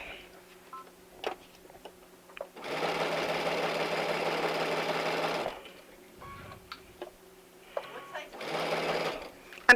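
Domestic sewing machine stitching fabric pinned in its groove by a stiletto during a sewing fair demonstration, running in two close bursts, a long steady whir then a shorter one, with small clicks and quiet movement between.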